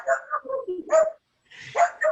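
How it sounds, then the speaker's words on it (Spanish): A dog barks in a few quick, close bursts, goes quiet for a moment, then barks again in a short run. "salió un perro corriendo"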